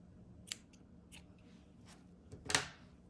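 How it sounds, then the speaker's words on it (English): Scissors snipping through yarn on a crocheted beanie, a handful of quiet, crisp cuts spaced about half a second apart with a louder final snip, heard alone in a still room. "We're gonna cut this yarn."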